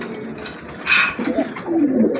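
A large pair of Bombay pigeons for sale gives low, soft coos nearby, following a brief brighter burst, with no one talking.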